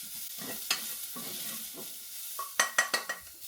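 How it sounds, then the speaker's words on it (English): Onions caramelizing in a pan for carne asada fries, a low sizzle with soft stirring scrapes, then a quick run of sharp utensil clacks against the pan near the end. "Nice and caramelized. Well, beginning of caramelization."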